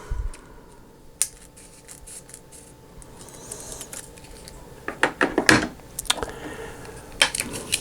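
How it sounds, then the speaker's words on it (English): A few sharp, crisp snips of scissors cutting photographic film close by, scattered among quiet handling clicks and rustles, with no voices. "Scissors."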